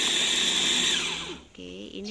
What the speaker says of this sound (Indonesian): Kemudian kita blender semua bumbunya tadi ya, sampai betul-betul bumbunya ini halus